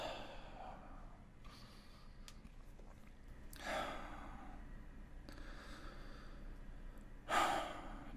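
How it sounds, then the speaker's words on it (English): Slow, deep breaths during a guided breathing exercise, several long airy inhales and exhales spaced a few seconds apart, soft and close with a quiet background. "Take a few more deep breaths here."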